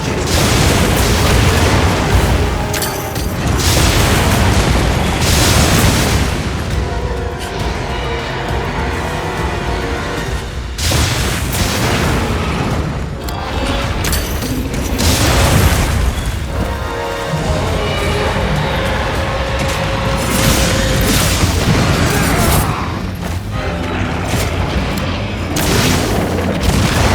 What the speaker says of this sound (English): The compact anti-wyvern gun can reach it!